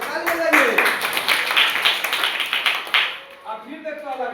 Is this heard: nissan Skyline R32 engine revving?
no